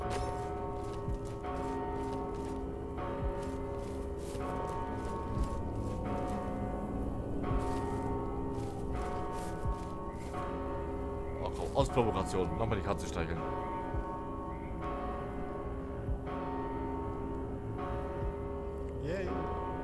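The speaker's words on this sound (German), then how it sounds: "Und warum bimmelt aber die Glocke jetzt?" A bell keeps tolling at a regular pace in Mortal Shell, its sustained ringing tones running beneath someone speaking and some brief clattering game sounds midway.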